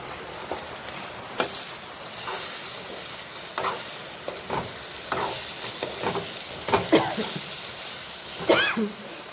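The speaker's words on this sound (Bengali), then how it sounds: "আর ভাজানো হয়ে গেছে, ভেজে নিয়েছে" Food frying in a pan on a wood fire in a Santhali home kitchen, with steady sizzling and repeated scraping stirs at irregular intervals, close by and moderately loud.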